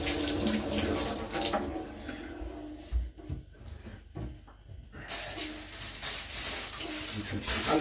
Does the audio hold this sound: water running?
yes